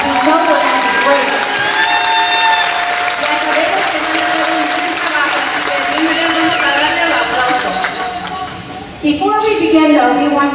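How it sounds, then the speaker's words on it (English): Audience applause fills a sixth grade band concert, steady and sustained for about nine seconds with a brief dip near the end, while a voice speaks over the clapping. "let's give them a round of applause already"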